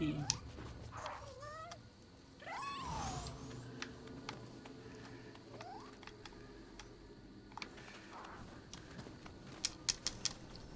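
Soft meows and chirps from a cat yokai companion in Nioh 2, several rising and falling cries in the first few seconds followed by faint clicks and ticks in a quiet scene.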